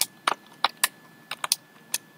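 Keys clacking on a computer keyboard while HTML markup for a Bootstrap 4 carousel slider is typed: about eight crisp, irregular clicks close to the microphone, fairly quiet, with short pauses between strokes and no talking.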